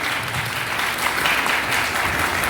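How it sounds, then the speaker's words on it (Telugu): Audience applause at a felicitation ceremony honoring yoga competition winners, a dense, sustained round of clapping from a crowd throughout. "గివ్ ఏ బిగ్ క్లాప్స్ గట్టిగా."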